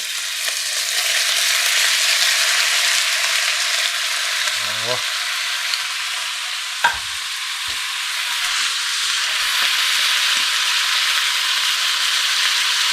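Unseasoned room-temperature meat for bayram kavurması fries in fat in a thick steel pot, giving a loud, steady sizzle with a few knocks and scrapes from stirring.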